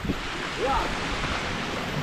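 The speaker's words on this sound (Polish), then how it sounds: "Oto Glimur, piękny wodospad." Glymur waterfall sends up a steady, broad roar of rushing water, loud and continuous throughout with some wind buffeting, and a brief faint voice rises over it.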